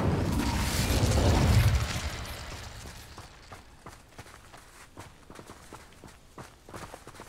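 The Incendio fire spell in Hogwarts Legacy bursts with a loud whooshing blast that swells and fades over about two seconds, followed by quick running footsteps pattering.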